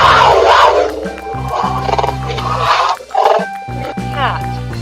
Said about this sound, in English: Puma,